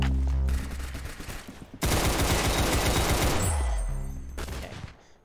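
Rifle gunfire from the peppermint rifle in the Roblox game Arsenal: loud, sustained bursts of rapid shots with a brief lull, close and dominant over game sounds and music.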